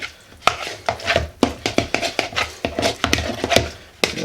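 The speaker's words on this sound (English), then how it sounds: "put the lemon juice in there and get it stirred up" A spoon stirs avocado egg salad with lemon juice in a bowl, giving a rapid, irregular run of close, wet clicks and scrapes against the dish.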